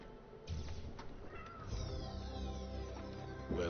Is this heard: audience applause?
no